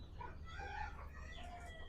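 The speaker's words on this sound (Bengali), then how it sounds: "এ পাশে দেশি মুরগি আছে, এই যে এই পাশটাতেও দেশি মুরগি আছে" Desi chickens inside a home-built coop, heard as a few soft, fairly faint clucks and a short crowing call over a low background hum, with no talking.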